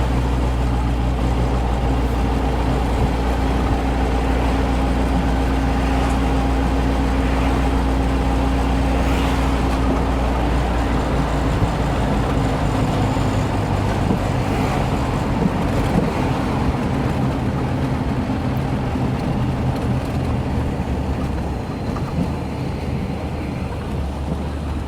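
A 1955 Austin Healey 100 BN1 with its stock muffler cruises steadily, producing a continuous low engine rumble mixed with road and wind noise throughout.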